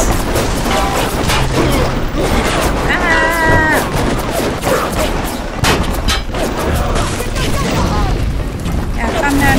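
Grenade blasts and gunfire in BioShock's Neptune's Bounty, loud and dense, with repeated booms and bursts packed across the whole stretch alongside game noise and voices.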